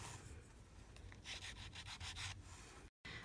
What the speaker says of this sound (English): I'm gonna just take the edges and rub them in the ink just to add a little definition to the edges here.